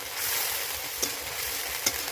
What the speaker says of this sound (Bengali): এখন এই মশলাগুলো আমি ভালোভাবে একটু কষিয়ে নেব।